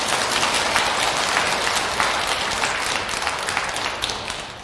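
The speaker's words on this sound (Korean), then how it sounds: "이럴 때는 박수 쳐야 되는 거 아니에요?" An audience claps at a Buddhist dharma service at Dongmyeong Bulwon temple in Busan, a dense, continuous wash of applause from many hands that tapers slightly toward the end.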